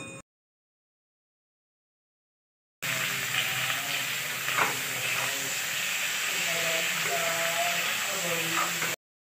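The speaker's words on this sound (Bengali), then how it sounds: "বেগুনগুলোকেও বেশ কিছুক্ষণ আলুর সাথে ভেজে নিতে হবে" Loud, continuous sizzling of aubergine and potato frying in hot oil, with a voice talking over the hiss.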